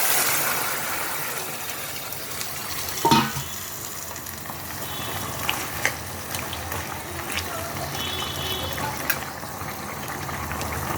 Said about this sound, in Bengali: আমি এখন এই সবজি সিদ্ধগুলো সব দিয়ে দেব।